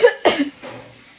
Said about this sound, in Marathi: मला खोकला झालाय.